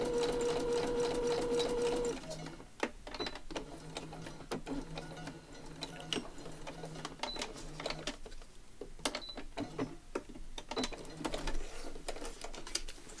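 A sewing machine whirs steadily for a couple of seconds, then stops, followed by scattered clicks, clacks and handling noises nearby.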